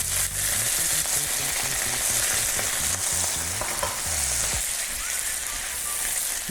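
Chicken gizzards soaked in mirin sizzle loudly in a pan with onion for a Korean stir-fry, with constant frying crackle and the rhythmic scrape of stirring throughout.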